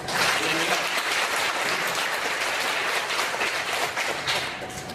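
A church congregation at a Baptist service applauds loudly and continuously for five seconds, with dense clapping that fades only slightly toward the end.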